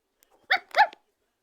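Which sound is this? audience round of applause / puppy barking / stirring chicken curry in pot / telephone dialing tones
puppy barking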